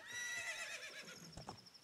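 A horse in the video game Zelda: Ocarina of Time gives a loud, descending whinny lasting over a second, followed by a few light hoof clip-clops as it trails off.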